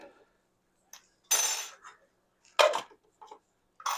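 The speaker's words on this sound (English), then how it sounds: "we're not going to shake it. We're going to stir it." Ice rattling and clinking against a mixing glass as a cocktail is stirred, in a few short bright bursts separated by near silence.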